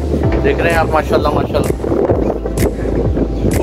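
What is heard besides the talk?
cold wind blowing outdoors in Karachi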